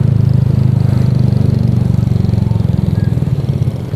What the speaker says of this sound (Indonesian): Kalian bisa dengerin gimana suara knalpot ini